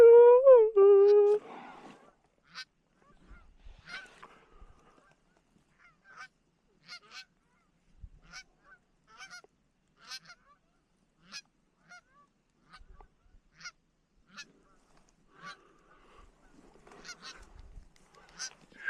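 Geese from a flock flying over a field in North Dakota during early goose season honk loudly at the start, then scattered distant honks and calls continue sporadically at a fainter level.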